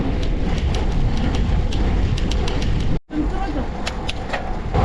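A train rolls along a railway line beside a road cyclist in Chungbuk, a loud continuous rumble with rhythmic clicks of wheels over rail joints, briefly cut out midway, mixed with wind noise.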